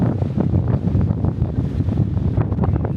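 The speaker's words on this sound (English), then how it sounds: "Wow, incredibly windy." Strong wind buffets the microphone at an outdoor sightseeing spot, a loud, constant roaring rumble with gusty surges throughout and no one speaking.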